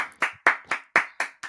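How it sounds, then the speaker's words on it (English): Hands clapping in a steady rhythm, seven crisp close-up claps spaced evenly about a quarter second apart, loud and dry with no voices over them. "Pardon me as I stand up and applaud."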